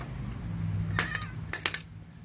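A 19-year-old cat meows twice in quick succession near the microphone, short and fairly loud over a low background hum in a workshop where a backhoe is being removed.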